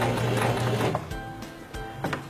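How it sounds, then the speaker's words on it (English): A sewing machine driven by a foot control stitches backwards with the reverse lever held, giving a close, steady mechanical whir that cuts off after about a second, followed by a few short bursts of stitching. "Press the foot control and sew forward a few stitches."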